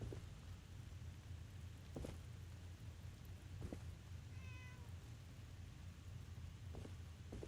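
A cat in Fallout 4 lets out a single drawn-out meow midway, rising over a steady rain-like hiss and low rumble, with a few faint clicks scattered around it.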